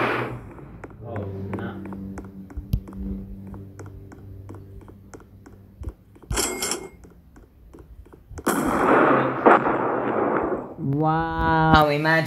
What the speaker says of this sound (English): I hear gunshots next to my base.